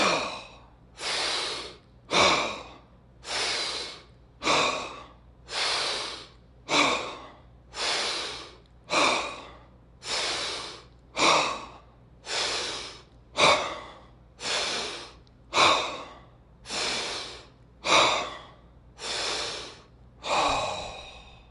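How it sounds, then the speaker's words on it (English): Deep, forceful breaths in a guided breathwork exercise, about fifteen to sixteen loud inhale-exhale cycles in a steady rhythm, close and alone without speech. "let's do our first round of 10 breaths"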